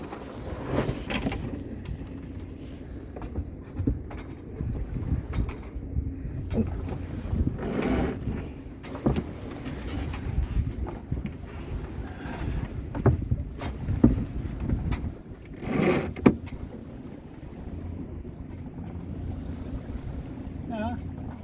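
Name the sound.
sailboat sailing upwind in wind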